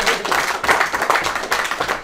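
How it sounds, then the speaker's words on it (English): A small audience at a live football podcast quiz show claps for the contestants, a brisk close burst of hand claps with some scattered voices, lasting about two seconds. "Round of applause for the guys."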